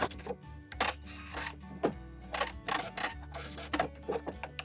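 A sewing machine sews a zigzag stitch back and forth on a garter belt, with bursts of rapid mechanical stitching separated by short pauses and a low motor hum underneath, close and clear.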